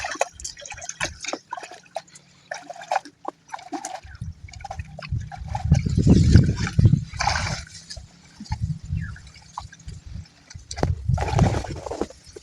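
Footsteps slosh through a waterlogged field with standing water and snails, a walking stick in hand; uneven splashing steps come in bursts, loudest midway and again near the end, with dripping between them.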